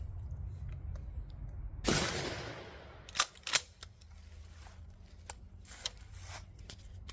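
A Remington 870 Express Magnum 20 gauge shotgun fires one loud blast outdoors, its report decaying into the surroundings, followed by a few softer clicks and handling sounds.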